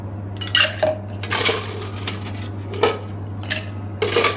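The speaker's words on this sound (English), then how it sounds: "some ice cube into the shaker." Ice cubes dropped into a metal cocktail shaker for a strawberry-syrup mocktail, several hard clattering clinks in bursts with a steady low hum beneath.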